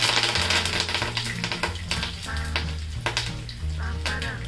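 Cumin and mustard seeds crackle and pop in hot oil for a tempering, a dense, loud sizzle scattered with sharp snaps and spatters up close, with a low hum beneath and no speech.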